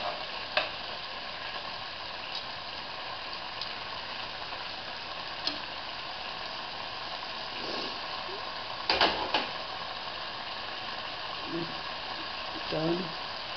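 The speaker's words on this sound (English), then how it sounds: "You can hear that sizzle." Food sizzles and crackles steadily in a hot pan, with occasional clinks and scrapes of a utensil.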